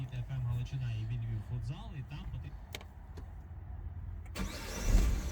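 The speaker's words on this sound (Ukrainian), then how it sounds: "Автомобіль заводиться з півоборота, працює рівно стабільно, справно" A Peugeot 308 SW starts up and settles into a low, steady idle, faint and close, with a person talking over it and a brief louder noise near the end.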